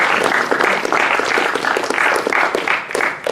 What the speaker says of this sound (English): we'd like to give a round of applause to Coach Purley and the rest of the cycling